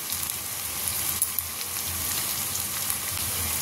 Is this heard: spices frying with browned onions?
yes